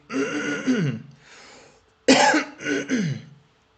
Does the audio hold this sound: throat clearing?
yes